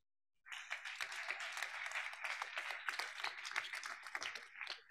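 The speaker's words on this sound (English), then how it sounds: "she does deserve a wonderful round of applause" After a brief silence, a conference closing-ceremony audience bursts into steady applause, many hands clapping together at moderate distance for several seconds.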